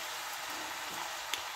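Onions sizzle steadily in a hot pan for a chicken stir fry, a constant broadband frying hiss with a faint scrape of stirring and one brief clack near the end, close by and without voices.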